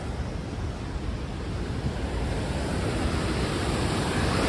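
Vernal Fall in Yosemite pours down as a steady, dense broadband rush of falling water, loud and unbroken throughout, with no voices.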